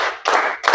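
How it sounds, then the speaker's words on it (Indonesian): A classroom of students claps hands together in unison during a science lesson, two full bursts of clapping separated by a brief pause, close and fairly loud. "Tepuk 1. Tepuk 2. Tepuk ketiga."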